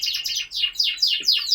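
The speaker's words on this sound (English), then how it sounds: "during the week, obviously the birds were singing really well" A lizard canary sings alone, close by, in a bright run of rapid chirps and warbling trills repeated in quick phrases without pause.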